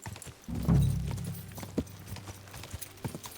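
Horse hooves clop as a rider dismounts in the Kingdom Come: Deliverance II video game, a loud heavy thud followed by a few scattered lighter steps and shuffles nearby.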